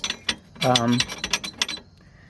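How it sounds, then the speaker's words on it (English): Snapped U-bolts on a 2001 Jeep Cherokee XJ leaf spring give a rapid series of close metallic clicks and ratcheting creaks with a short groaning squeal in the middle. "Well, you'll be able to hear it. That's my U-bolts."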